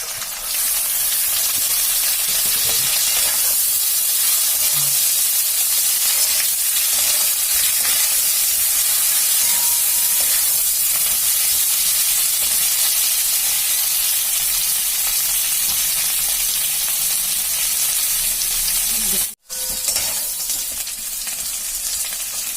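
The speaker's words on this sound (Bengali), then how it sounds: "এর মধ্যে বেগুনটা দিয়ে দিচ্ছি এবার" Eggplant pieces fry alongside onions in oil for a rohu fish curry, giving a loud, continuous hissing sizzle that holds steady throughout, with one brief dropout near the end and no speech.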